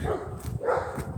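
Puppies barking and yipping in short excited bursts, two louder yelps standing out over a steady background murmur, fairly close.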